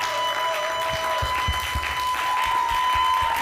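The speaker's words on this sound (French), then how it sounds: "Celebrate your God by clapping." A church congregation claps together during a Sunday service, a steady wash of hands with a few sharper, rhythmic claps standing out, over a faint sustained tone.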